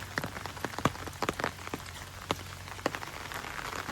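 Light rain falls on an open field with a freshly sown rice seedbed, a soft, quiet patter of scattered individual drops ticking irregularly over a low steady hum.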